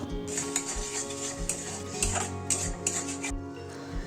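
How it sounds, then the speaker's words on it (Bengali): Ground spice paste, stone-ground on a grinding slab, stirred into masala frying in a pan for Bengali malai chingri, with repeated scraping strokes and clinks of a spatula over a steady close sizzle. "এই পর্যায়ে শিলে বেটে রাখা পেস্টটা দিয়ে ভালোভাবে মিশিয়ে নিতে হবে।"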